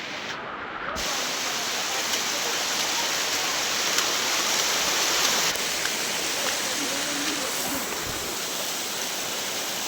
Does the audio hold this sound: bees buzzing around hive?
no